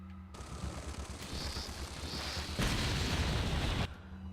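Grenade blast in Resident Evil 4 game play: a sustained roaring burst of explosion noise that swells and holds for a few seconds before cutting off, with no talking.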